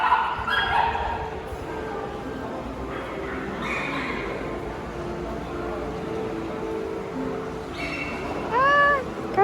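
Dogs at a KKC dog show in Korea give a few scattered yips amid a busy hall, ending with a brief high whining yelp nearby, while people talk in the background.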